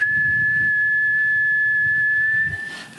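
A man imitates a father's calling whistle, one steady, sustained high whistled note held close and loud for over two seconds before it cuts off.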